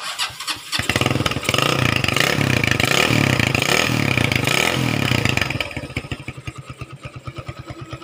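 A stock Honda Tiger motorcycle engine with a modified HM exhaust starts, then revs hard with a loud, rough, popping exhaust before settling back to a fast, lumpy idle.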